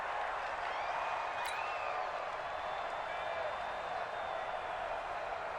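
Steady broadband roar of a home stadium crowd in Madden 2020 American football, continuous and dense throughout, with a few faint whistles rising above it.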